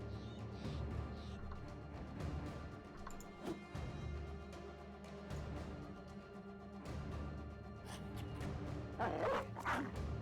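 A dog barks and yips in the medieval strategy video game Battle Brothers, several short barks over rumbling battle ambience, with a denser burst of yelps near the end.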